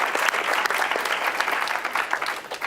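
Steady audience applause at a children's speaking event, a dense, sustained wash of clapping that fills the whole stretch at a fairly close, even level.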